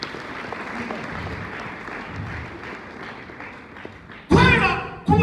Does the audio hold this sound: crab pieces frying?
no